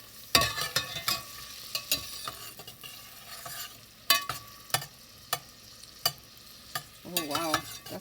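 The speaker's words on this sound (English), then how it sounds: "And then I'll let that onion soften just a little bit in the butter." Onion softening in hot butter in a pan, with a steady low sizzle under repeated sharp scrapes and knocks of a utensil stirring near and loud.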